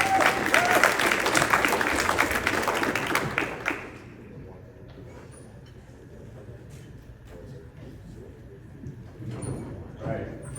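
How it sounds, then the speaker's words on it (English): At a semiconductor summit, an audience claps loudly for IEEE chapter representatives for nearly four seconds, then the applause drops away into faint room noise and scattered sounds. "Let's give them a round of applause for them."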